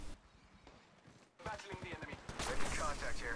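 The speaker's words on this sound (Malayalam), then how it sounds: "ഇതെന്ത് തോക്കാ വെടിവെച്ചിട്ട് ഉണ്ട പോകുന്നില്ല മര്യാദക്ക്." Gunfire from a PUBG-like battle-royale mobile game, with sparse faint shots at first, then a rapid loud burst and continuing fire after a short gap, close and under some talk.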